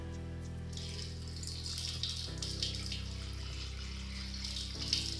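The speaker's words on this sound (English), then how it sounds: "open the tap" Tap water runs steadily into a Still Spirits Air Still distiller container, a continuous broadband splashing rush with a low hum beneath, close and fairly loud with no talking.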